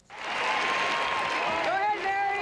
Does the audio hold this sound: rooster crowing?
no